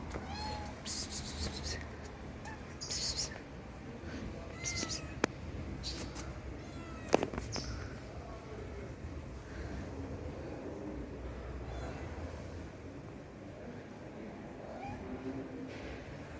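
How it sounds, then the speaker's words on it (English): A mother cat meows loudly and repeatedly in cold winter conditions outdoors, several distinct calls spaced irregularly through the first half, then fainter cries over a quiet background hiss. "The mother cat meows loudly and looks for her kittens."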